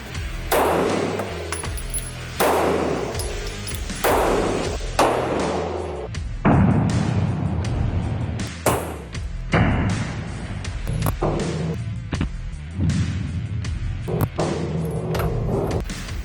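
A Staccato P pistol is fired at an indoor range in a large facility, with loud, booming shots that reverberate heavily through the room, some in quick pairs and others spaced apart.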